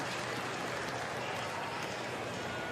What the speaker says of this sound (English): And the applause you hear in the background